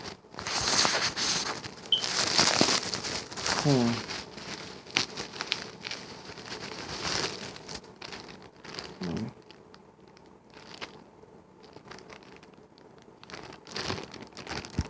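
A plastic Ziploc bag crinkles and rustles as a custom Spider-Man figure is unboxed, with irregular handling crackles and tearing noises close up and no talk.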